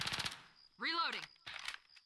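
Bursts of automatic gunfire in a zombie video game, a rapid rattling volley at the start followed by further short bursts, with a voice shouting in between.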